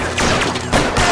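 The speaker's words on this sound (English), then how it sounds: "गोली वाली चल रही है" A quick burst of overlapping gunshots from a shootout in L.A. Noire, several sharp cracks firing rapidly in close succession, loud and near with no talk over them.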